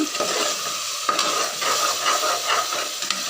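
Ground tomato being stirred into chicken biryani masala in a pressure cooker, a close scraping stir over a steady sizzle and hiss, with soft clinks of the spoon.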